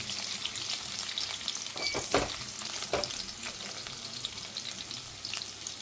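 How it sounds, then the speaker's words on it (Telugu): Garlic sizzles steadily in hot oil as the base for gongura pappu, a steady crackling fry with a few louder pops and stirring scrapes, close and fairly quiet, with no talk. "నూనె బాగా మరిగిన తర్వాత వెల్లుల్లిపాయలు వేసుకొని"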